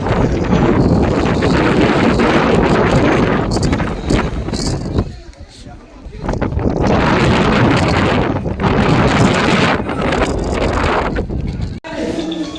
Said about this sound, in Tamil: காற்று எப்படி அடிக்குதுன்னு பார்த்தீங்களா.